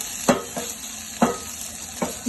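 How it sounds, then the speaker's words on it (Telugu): Onions frying in a single spoon of oil in a covered pan, with a soft sizzle broken by four sharp spoon scrapes at uneven intervals, close and fairly quiet. "ఇట్లా ఇది ఉల్లిపాయలు గోలిపోతాయండి"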